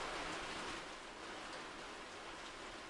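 Steady rain hisses as a background effect for a tabletop horror role-playing session, a broad, even wash of falling drops that stays faint and constant throughout with no voices over it.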